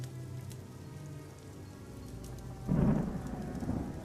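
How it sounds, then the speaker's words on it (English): Steady rain patters on a stone floor during a thunderstorm, then a sudden booming crash of thunder breaks in and rumbles on to the end. "Another flash of lightning was chased by a booming crash of thunder, water pattering loudly on the stone floor"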